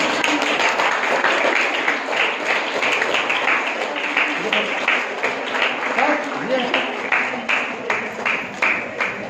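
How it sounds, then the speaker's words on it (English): Students and guests at a college valedictory function for Vigilance Awareness Week clap for a prize winner. A scattered, uneven round of applause with distinct individual claps runs under ongoing speech. "Please give a great round of applause"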